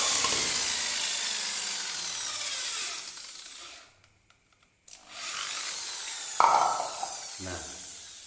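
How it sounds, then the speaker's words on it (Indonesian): Drilling through the center of a PVC elbow cap with a power drill: a steady, close grinding whir that stops for about a second of silence, then resumes with harsher bursts near the end. "kita beri lubang pada bagian tengah daripada penutup elbow ini ya"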